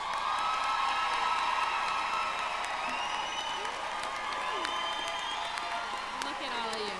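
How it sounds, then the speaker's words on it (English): An audience at a charter school graduation ceremony in Brockton applauds graduates, with sustained clapping mixed with crowd cheering, whoops and high excited shouts throughout. "Let's give them a round of applause."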